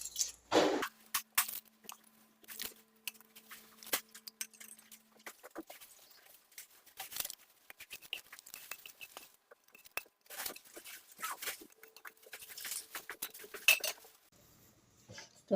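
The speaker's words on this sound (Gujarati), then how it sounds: "આપણે ચોખા પલાળીને રાખ્યા હતા એ આપણે આમાં એડ કરી દેશું" Soaked rice goes into a cooking pot for vegetable biryani, with scattered clinks and scrapes of a spoon against the vessel and a few louder clatters between quiet gaps.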